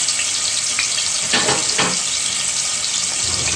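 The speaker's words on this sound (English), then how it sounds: "So I'm putting in the garlic. You hear that sizzle?" Steady broadband sizzle of garlic frying in hot oil, with a couple of brief louder bursts partway through and no talking.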